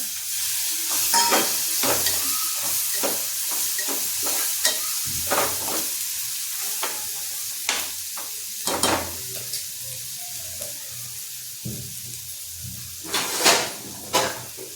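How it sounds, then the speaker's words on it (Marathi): Tomatoes fry in a pan and are stirred with a spoon, giving a steady sizzle broken by repeated scraping and clattering strokes, close and fairly loud, with no talking. "टोमॅटो टाकायचं."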